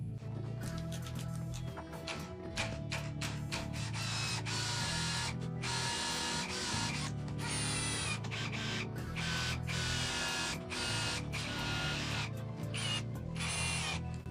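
A power drill drives confirmat screws with a hex bit while a workshop or garage shelving workbench is assembled. It whirs steadily and fairly quietly in repeated short bursts, with no talking.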